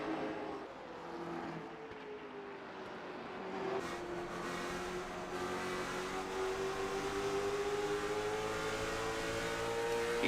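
Late model stock cars racing down a straightaway at night, engines droning and climbing in pitch as they pull away, a steady mechanical roar building slightly louder toward the end with no speech.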